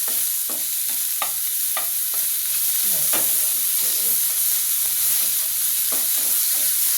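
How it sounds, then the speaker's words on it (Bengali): Garlic, green chili and tomato fry in a pan with a continuous sizzle, while the spatula repeatedly stirs and scrapes against the pan. The sound is close and moderately loud, with no talking. "একসাথে সব ভাজা হয়ে যাবে।"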